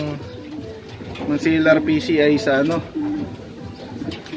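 Racing pigeons coo in rolling, repeated calls close by during a windy race lap, under a person talking.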